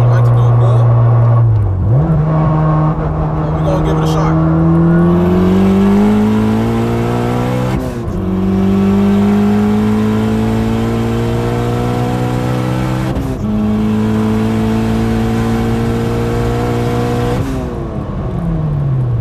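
A turbocharged Honda Civic Si accelerates hard on the street in a loud, close engine pull. The rising drone climbs through each gear and drops sharply at three quick shifts before climbing again.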